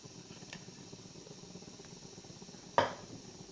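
A melamine bowl lifted out of a cooking pot while steaming bhapa pitha in a home kitchen, one brief hard clatter of the bowl against the pot over a faint, quiet room hum.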